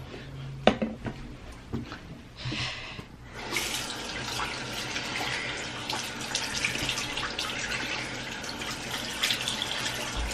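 A bathroom tap runs steadily into a sink while a face is being rinsed, with water splashing and a brief clatter at the start, at moderate volume and close by.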